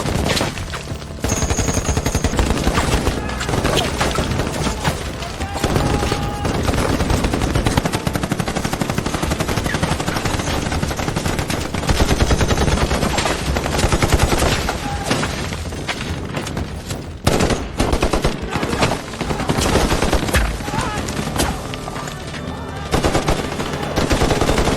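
German machine gun fire in a war drama scene: sustained, loud automatic bursts with crackling impacts and shattering debris, continuous for about twenty-five seconds amid battle noise.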